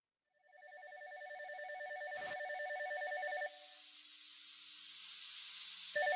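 A telephone rings out through a handset while a call is placed, with repeated electronic ring tones in a steady pulsing pattern, then a pause and a click as the line connects. No one speaks.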